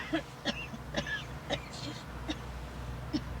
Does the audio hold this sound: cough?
yes